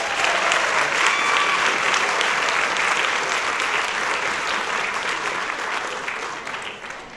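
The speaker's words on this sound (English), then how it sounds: "Please give them a round of applause." Audience applause at a community celebration event in Morgan Hill, a dense, steady clapping from a large crowd that holds strong and fades slightly near the end.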